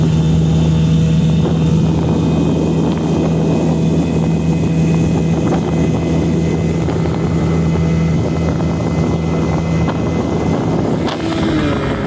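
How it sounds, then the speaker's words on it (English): A motorboat engine drones steadily and loudly throughout on Laura Walker Lake, with a constant low hum and wind buffeting the microphone. "decided to bring the boat out today"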